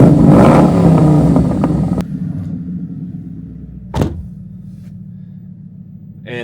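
A 2012 Ford Mustang Boss 302 idles with a deep, throaty rumble, a steady low burble throughout with one brief sharp blip near the middle, heard close and alone.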